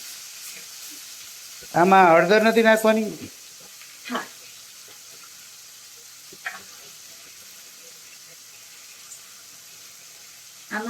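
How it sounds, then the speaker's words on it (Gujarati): Fresh green fenugreek leaves hit hot oil tempered with asafoetida, giving a loud burst of sizzling that fades quickly into a quiet simmer, with brief talk in between. "બેઝિકલી મેથીને વઘારી છે."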